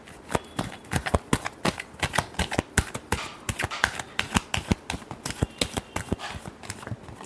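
Tarot cards are shuffled by hand in a close, rapid series of crisp slaps and flutters with an uneven rhythm, and no one speaks.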